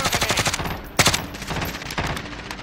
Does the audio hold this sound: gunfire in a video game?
yes